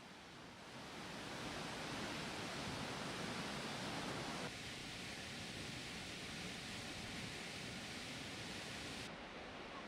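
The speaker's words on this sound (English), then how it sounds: "Seljalandsfoss is one of the best known waterfalls in Iceland" Seljalandsfoss waterfall in Iceland roaring as a steady, dense broadband rush of falling water, close and loud, holding constant for the whole stretch with no voices.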